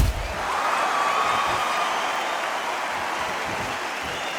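Arena crowd in the Undisputed boxing video game: a steady, dense roar of cheering and applause, loud and continuous, holding at the same level throughout.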